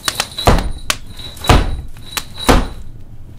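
Three firm knocks on a wooden door, evenly spaced about a second apart, loud and close, each with a brief rattle, heard alone.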